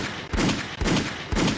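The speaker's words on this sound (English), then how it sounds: "Listen, gunshots for y'all." Three bursts of rapid gunfire ring out in a regular rhythm, each a loud, close volley of overlapping shots.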